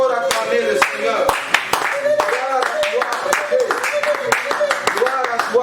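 A church congregation claps in quick, irregular rhythm to acclaim the Lord at a New Year's Eve service. Loud, close handclaps sound together with singing and speaking voices.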